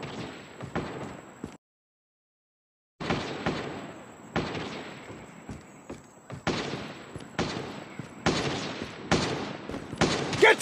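Rapid bursts of sniper and automatic gunfire in the mobile shooter Call of Duty: Mobile, loud and close, repeating in clustered volleys with one brief silent gap and no talk.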